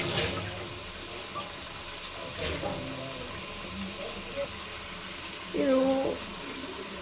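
Water is poured from a tap-like stream into a pot of sprouted bean curry, a moderate splashing run close by, while a person talks briefly over it.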